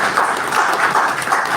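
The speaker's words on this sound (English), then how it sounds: "Can we give Madam Oki a applause?" Audience applause for Madam Oki at an inauguration ceremony for a public relations project implementation committee, a steady, dense clatter of many hands clapping close by and fairly loud, with no talk over it.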